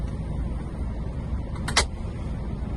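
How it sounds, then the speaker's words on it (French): Driver's seat being adjusted in a truck cab during heavy-vehicle licence checks, a short mechanical click-and-slide burst near the end over a steady low cab rumble. "je vais m'installer au poste de conduite, donc je commence par régler mon siège"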